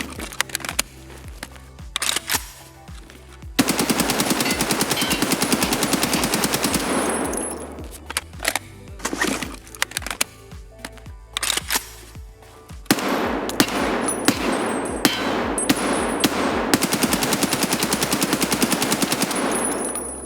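AKM assault rifle fire in a first-person shooter video game, with repeated bursts of automatic shots and short gaps between them, loud and close, some bursts long and sustained.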